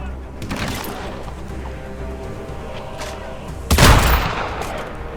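In the video game Hitman Absolution, machine gun fire bursts out once briefly near the start, then again louder and longer later on, over a low steady game background.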